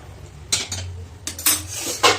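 Chicken being stirred in a metal pot, with several clattering scrapes and knocks of a spoon against the pot, close by and without talk.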